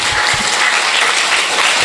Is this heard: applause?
yes